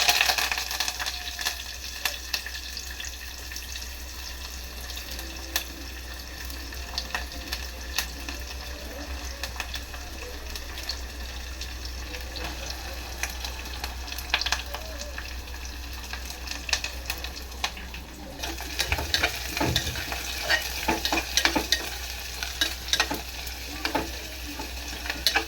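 Chopped onions sizzle and fry in an oiled pan for a drumstick curry, giving a steady, close crackle, with occasional stirring scrapes and clinks that grow busier toward the end.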